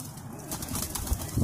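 Pigeons kept at the Pola G pigeon club, cooing softly with a faint flutter of wings against a continuous, moderately loud background hum.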